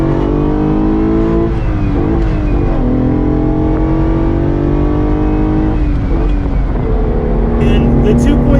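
A Ferrari Dino 246 GTS 2.4-litre engine runs loudly and steadily, its pitch rising and falling as it revs, with a few brief shifts in tone.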